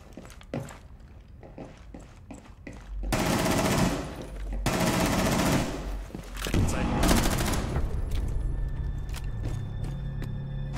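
Gunfire in an online shooter game: scattered single shots, then sustained bursts of rapid automatic fire with brief pauses, loud and close, alongside footstep-like thumps.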